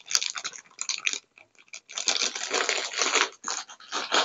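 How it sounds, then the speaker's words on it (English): Close, crisp crunching as crunchy Cheetos and a roast beef sub are chewed, irregular bursts of crackly bites separated by brief pauses. "I'm going to be having some crunchy Cheetos"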